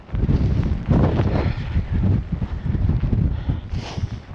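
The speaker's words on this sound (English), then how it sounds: "windier than a windy thing" Strong wind in Iceland buffets the microphone in heavy, continuous low rumbling gusts, steady throughout with a few surges.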